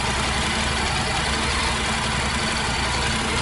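A Honda NC750X DCT motorcycle with 160,000 km on it idles in a steady, even rumble with no talking over it.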